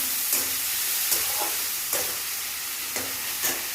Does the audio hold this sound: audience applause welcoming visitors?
no